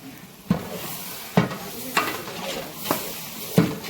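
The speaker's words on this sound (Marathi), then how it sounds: "आता आपल्याला याला चांगलं परतून घ्यायचं मित्रांनो." About 300 grams of garlic paste being stirred and fried in a pot for a large batch of chicken biryani: a steady sizzle with about five sharp scraping stirs at intervals, close and alone.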